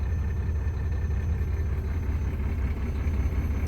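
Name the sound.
car engine idling rough with one cylinder's injector off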